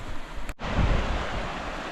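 A high, flooding river rushes steadily nearby with a broad, continuous roar of water, and wind buffets the microphone. A brief dropout interrupts the sound early on, and no one speaks.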